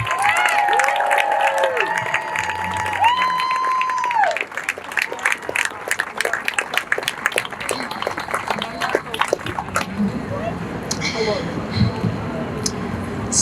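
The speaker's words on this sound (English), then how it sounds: "Please give Miriam a round of applause." Crowd at an outdoor anti-Zionist rally in Brooklyn, New York City, applauding as a rabbi is welcomed to speak, scattered clapping and cheers mixed with street noise, tonal sounds like passing sirens, and nearby voices.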